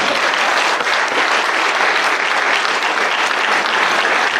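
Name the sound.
applause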